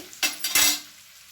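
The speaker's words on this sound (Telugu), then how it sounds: "ఫిష్ ముక్కలు తిరగేసిన తర్వాత మళ్ళీ కొద్దిగా ఆయిల్ వేసుకోండి అడుగు పట్టకుండా" Fish pieces in oil in a pan give a few close, loud bursts of sizzling and clatter, with a short hissing splash and a fading tail of frying.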